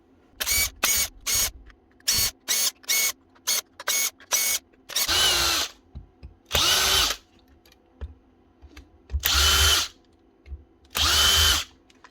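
A broken DeWalt DCD996 cordless drill motor strains in repeated whirring bursts: a quick run of short pulses, then several longer bursts separated by silence, close and loud.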